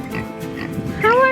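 Kunekune pigs grunting and oinking at morning feeding on a farm, short low snorts under a person's voice greeting them, with a rising squeal near the end.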